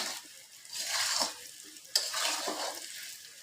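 Chunks of taro sautéing hard in hot oil for a koi fish curry, stirred continuously: a steady broad sizzle and scraping swells and fades, with a sharp clack of the spoon against the pan midway.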